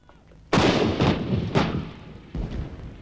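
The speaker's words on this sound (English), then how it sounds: "The Royal Artillery joining again with Allied guns all along the front line." British Royal Artillery guns firing along the Gulf War front line, three loud booming blasts about a second apart, each with a rumbling tail, the last one after a longer pause.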